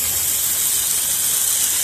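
Water jets hard from a hose across a cricket ground near the roller and pitches, a steady, loud broadband hiss and gush with no breaks.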